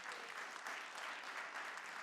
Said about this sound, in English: Can we make a big, big round of applause for the jurors?